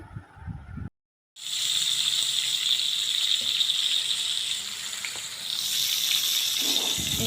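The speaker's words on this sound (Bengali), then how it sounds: "এখান দিয়ে কই মাছ ভাজা বসিয়ে দিয়েছি আরেক চুলায়।" Koi fish (climbing perch) frying in a pan on a home kitchen stove gives a steady, fairly loud hiss that starts after a brief silence and runs to the end, swelling slightly near the close. No one talks.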